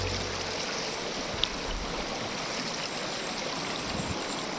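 River water flowing over stones in a rocky stream, a steady broadband rushing and gurgling that is continuous and fairly close, with one small splash-like tick.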